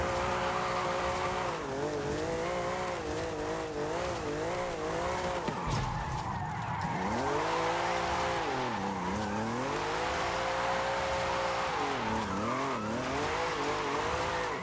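A smooth-running car engine in Forza Horizon 5 drones steadily throughout, its pitch rising and falling through gear changes and throttle shifts, loud and continuous with no talking.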